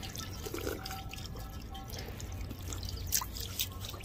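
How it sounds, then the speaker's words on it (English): A public drinking water fountain in Batumi runs with a light trickling and dripping over outdoor background noise, a sustained soft flow with a few splashy drops. "I will get a drink from one of these water fountains here."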